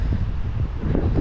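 Steady wind buffets the microphone on a boardwalk at Little Talbot Island State Park near Jacksonville, Florida, a continuous close rumble with no voices.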